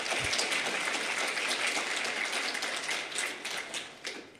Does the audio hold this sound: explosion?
no